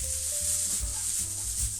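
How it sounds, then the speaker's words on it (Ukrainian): Chopped onion fries in a pan as the first step of a mushroom soup, a low steady sizzle with soft stirring scrapes and brief knocks close by. "Першим ділом кидаємо смажити цибульку"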